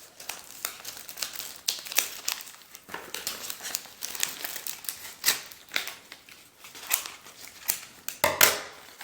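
A paper envelope holding a wartime militaria card is worked open close up, with continuous crinkling, crackling and small tearing sounds and a louder rip near the end, no speech.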